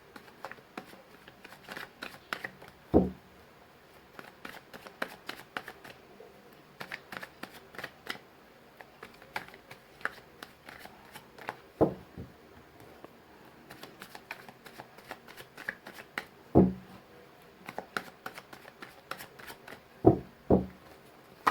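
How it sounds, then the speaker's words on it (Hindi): Tarot cards are shuffled in soft, papery riffles and taps, close and quiet, with a few sharper snaps spaced several seconds apart and no talking. "चलिए मैंने कर लिया कार्ड्स की सफलिंग"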